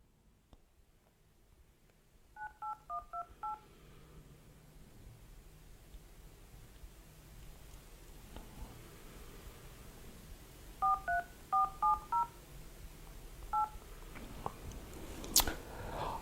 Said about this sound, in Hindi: अब हम फोन मिलाते हैं।